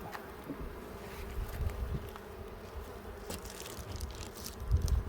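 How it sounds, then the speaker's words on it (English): A steady, dense buzzing of many honey bees in a hive close by, droning continuously with a low hum underneath. "A lot of the bees in here are winter bees."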